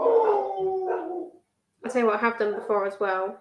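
Dogs howling in long, drawn-out wavering calls, heard nearby in a home kitchen, with a person talking over the start before a short pause and more howls.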